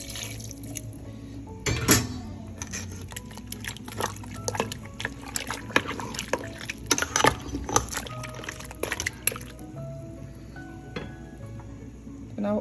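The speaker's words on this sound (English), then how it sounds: "So at this point, I'm going to add some water to it." Water poured into a cooking pot for Nigerian white soup, ofe nsala, with trickling, splashing and dripping in uneven bursts, close by, with faint background noise.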